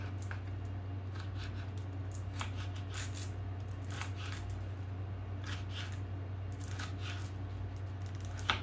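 Food is cut with repeated crisp snips and slicing strokes in an irregular rhythm, close and quiet over a steady low kitchen hum.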